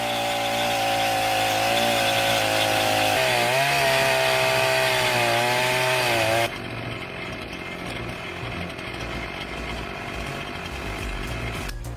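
A Portamill PM14 chainsaw mill cuts through wood with a loud, sustained high-pitched chainsaw whine that wavers as it bites. It then cuts abruptly to a rougher, noisier background.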